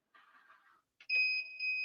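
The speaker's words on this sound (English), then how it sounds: "I think it's going to do another quick little tool change beep here" A Makera CNC machine sounds a short, clear electronic beep for a tool change while milling a DIY bottle opener. A faint mechanical rustle comes first, then a brief pause before the steady, fairly loud tone.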